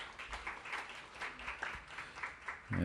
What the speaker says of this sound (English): Let's give Rick another big round of applause